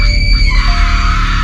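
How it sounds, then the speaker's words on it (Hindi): A haunted doll lets out a loud, sustained, shrill scream in a horror tale, one continuous piercing cry that holds steady and close for its whole length. "डोल की चीखने की आवाज आती है"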